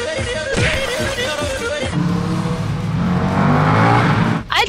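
A loud motorbike engine roars and revs steadily, building in intensity with a deep throaty drone, then briefly cuts off near the end.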